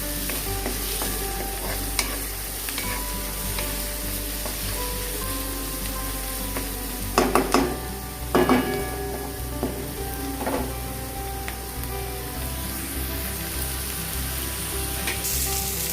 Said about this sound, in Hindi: प्याज को थोड़ा सा मैं भून लूंगी